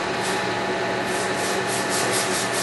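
Abrasive sanding of a pipe repair site to roughen the surface, a close, continuous scratchy rubbing with rhythmic back-and-forth strokes, steady in loudness, no voices.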